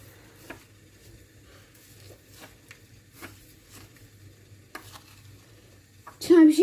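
Melted chocolate mixture for Dubai chocolate is stirred in a bowl, giving soft, irregular scraping strokes that are quiet and close over a low background hum, ending in a louder clattering burst.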